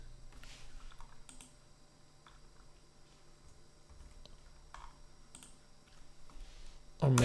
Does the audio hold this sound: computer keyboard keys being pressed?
yes